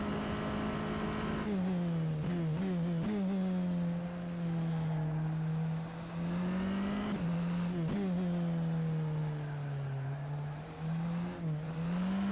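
A Tatuus open-wheel race car in rFactor 2 drones at high revs, with sharp drops and climbs as it shifts gears and lifts off the throttle, loud, close and continuous.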